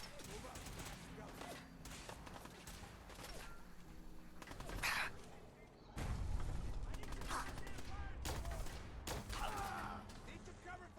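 Fallout 4 combat brings repeated bursts of gunfire, some loud and sharp, others more distant, along with mechanical clatter and shouted voices.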